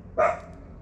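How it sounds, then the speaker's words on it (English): A single short, sharp bark from a dog near a welding bench where a wheelbarrow go-kart is being built, loud and close, then quiet. "Damn dog's messing my video."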